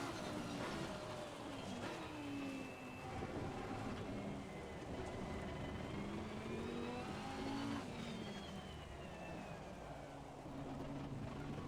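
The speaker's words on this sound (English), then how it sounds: "The car turns, the car brakes, the car accelerates." A race car engine in a driving video game with a wet-weather setup revs up and down in repeated rising and falling sweeps as the car accelerates, brakes and turns, loud and continuous with no talking.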